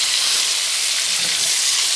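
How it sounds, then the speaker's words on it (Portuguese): Feijoada is stirred in a pot so it won't stick or burn, producing a steady, close sizzling hiss with faint scraping under it. "Aí eu estou mexendo aqui, né, pra poder desgrudar da panela e pra não queimar."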